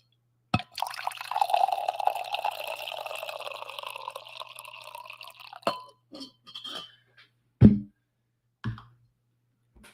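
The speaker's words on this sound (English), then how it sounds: "this will be my final coffee pour here" Coffee poured into a cup, a steady liquid stream rising for about five seconds, followed by a few separate clinks and taps, heard close with no talk over it.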